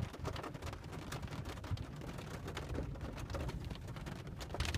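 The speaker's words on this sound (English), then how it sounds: "I'm just leaving Dollar Tree and it's totally raining." Rain falls steadily outside a Dollar Tree store, a soft, dense patter of drops on surfaces heard from nearby, faint and continuous with no talking.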